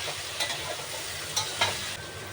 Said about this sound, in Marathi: आता पुन्हा एकदा थोडंसं पलटी देते, म्हणजे हलवून घेते असे भाजी,